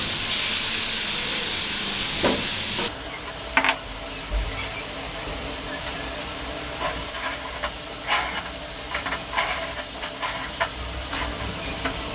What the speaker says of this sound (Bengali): তেল দিয়ে দিচ্ছি এখন মাছ দিয়ে দিচ্ছি